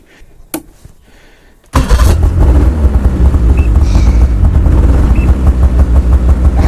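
An '05 Ski-Doo MXZ 600 SDI snowmobile engine, fitted with new spark plugs, cranks and fires, then settles into a loud, steady close-up idle with a deep rumbling pulse.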